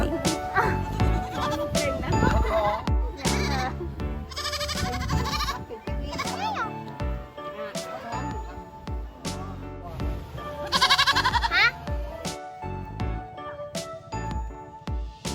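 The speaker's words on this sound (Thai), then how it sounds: "เขาก็จะมีการปล่อย แพะแคระออกมาให้เดินเล่นทั่วคาเฟ่เลย" Dwarf goats bleat repeatedly at close range as they wander freely around a cafe, their cries rising over a busy, music-like background with overlapping voices.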